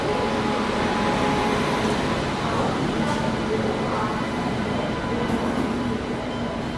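A Ghaziabad-based WAP-7 electric locomotive pulls an express into a station platform with a steady, loud, continuous rumble of rolling wagons, while people talk over it.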